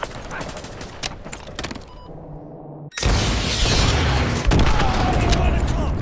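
Missile strikes in Modern Warfare 2 Remastered's Contingency mission, heavy booming explosions that hit after a brief lull and roll on loudly, with gunfire crackling beforehand and radio voices talking over the battle.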